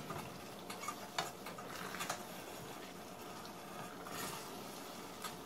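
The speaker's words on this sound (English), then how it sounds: "I'm just breaking up the noodles here. Gonna stir everything around again." Noodles and tofu are stirred in a frying pan, a soft continuous sizzle broken by scraping and clattering stirs, quiet and close.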